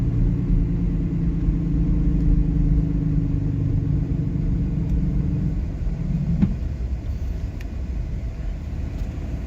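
A diesel truck fitted with an exhaust brake and VGT controller rumbles steadily and loud, its engine note dropping as it downshifts and the brake relocks with a short transient, then a lower, rougher drone continues.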